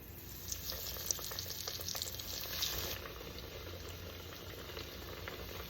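Eggplant sticks fry in hot oil with a continuous close sizzle and bubbling, louder for the first few seconds and then settling into a steady, softer crackle, with no voices.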